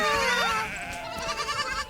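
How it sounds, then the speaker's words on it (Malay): Goats on a farm bleat close by in the morning, with several wavering cries overlapping one another over about two seconds, without speech. "Selamat pagi kambing-kambing."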